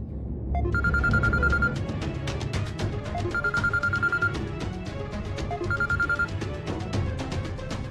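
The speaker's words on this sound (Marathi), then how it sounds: "अक्षा तू कसं काय फोन केलास मला?" A telephone rings three times in a Marathi TV serial scene. Each ring is an evenly spaced burst, fairly loud, playing over busy dramatic background music with no talk.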